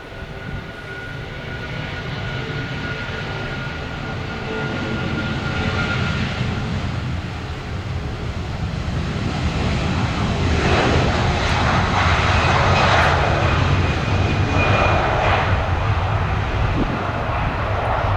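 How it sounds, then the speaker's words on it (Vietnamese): A Philippine Airlines Airbus A330 takes off from Tan Son Nhat airport, its steady engine roar building gradually and holding loud and broadband throughout, with no voices. "Chiếc máy bay thực hiện cất cánh rời khỏi sân bay Tân Sơn Nhất hướng về sân bay Manila,"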